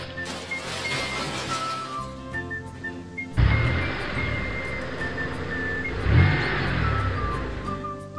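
Cartoon toy cars drive along a road in an animated children's show, with a motor whooshing and revving that swells suddenly partway through, under bright background music and without talking.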